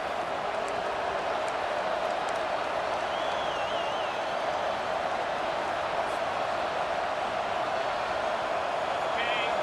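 A stadium crowd roars without a break at a college football game between South Florida and North Carolina in a video game, a dense, even wash of cheering that holds steady throughout.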